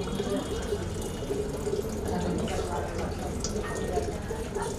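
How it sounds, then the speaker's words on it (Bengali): Water poured into a pan of vegetables during an oil-free cooking workshop, a steady close liquid pour and sizzle running under a speaking voice throughout. "আমি এখন পানি অ্যাড করছি পরিমাণ মতো"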